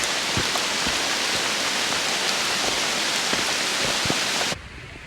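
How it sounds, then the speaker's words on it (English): Steady, loud rain pours down during a rainy-season mountain hike at Gyeryongsan, a dense hiss with scattered heavier drops that drops off abruptly near the end. "It's rainy season and I am getting soaked in the rain."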